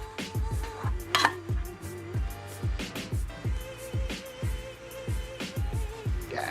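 Bread knife sawing through a loaf of tiger bread in a home kitchen, a steady run of short rhythmic scraping strokes, close and fairly loud, with a faint clink of crockery and low background hum.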